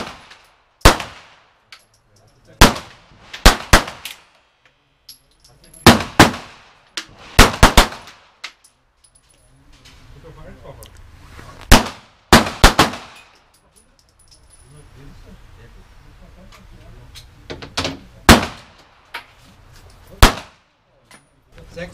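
Sharp Makarov pistol shots ring out in irregular pairs and clusters at a shooting competition range, loud and close, with quiet gaps and faint background voices between them.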